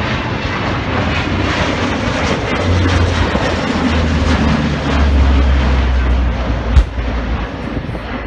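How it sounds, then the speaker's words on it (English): Royal Australian Air Force E-7A Wedgetail surveillance aircraft flying past at the Avalon Airshow, a loud sustained jet engine roar that swells as it passes, with a sharp bang near the end. "Maintaining battle space surveillance and communications is the Royal Australian Air Force E-7A Wedgetail, and you can see that coming in from the right."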